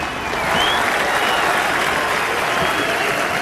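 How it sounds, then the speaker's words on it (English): A large street crowd at the start of the Paris march, where world leaders join in, cheers and applauds in a dense, sustained roar that swells in the first half-second and holds loud and steady throughout. "that huge cheer that is coming up from the crowd now marks the fact that the march has begun"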